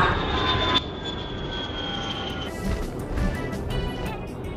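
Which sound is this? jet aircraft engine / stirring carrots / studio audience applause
jet aircraft engine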